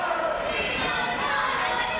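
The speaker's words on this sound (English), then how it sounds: "And listen to this crowd come alive for Sweet and Sour Larry Sweeney" At a wrestling match between Larry Sweeney and Shiima Xion, the crowd cheers for Sweeney with a dense, steady roar of many voices that fills the whole moment.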